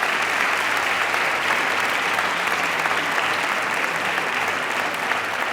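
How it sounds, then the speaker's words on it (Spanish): Steady, dense audience applause at the presentation event of a school science contest with a stage magician, holding at an even, loud level for several seconds without talk. "Un fort aplaudiment"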